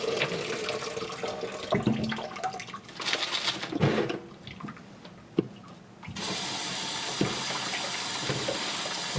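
Water running over tumbled stone cabochons, a rushing tap flow with intermittent splashing and clatter, then a steady, even stream of water toward the end.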